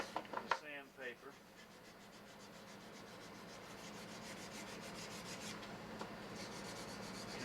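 Sandpaper rubs steadily against a carved stone bear pipe in a close, continuous scratchy hiss, with a few brief knocks and a faint voice at the start.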